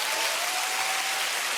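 A comedy show audience breaks into dense, loud applause, a continuous roar of many hands clapping together with no gaps and no talking over it.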